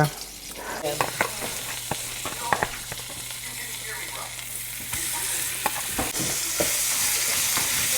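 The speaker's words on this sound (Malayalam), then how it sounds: "ഞാൻ ഉരുട്ടി ബോളാക്കി വറുത്തിട്ട് കറിക്കകത്തിടാൻ പോവാ" Oil sizzles steadily in a pan as minced meat balls fry, close up, while a utensil clinks and scrapes now and then; the frying grows louder toward the end.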